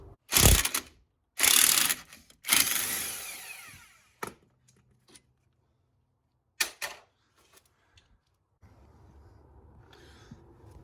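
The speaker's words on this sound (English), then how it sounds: "You don't need an impact, but I'm going to use it anyway." An impact wrench removes a 17 mm pinch bolt on a 2004-2013 Mazda3 front strut, firing in three loud bursts of rattling hammering, then a few shorter clicks and taps with quiet gaps between.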